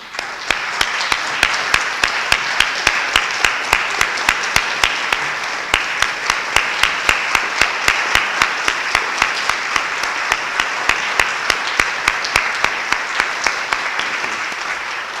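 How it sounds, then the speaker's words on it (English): A standing audience at a fine arts hall of fame induction at Southwestern College gives a long, loud round of applause, dense continuous clapping punctuated by sharp, regularly spaced nearby claps throughout. "I'd like everyone to stand and we can honor them with a round of applause."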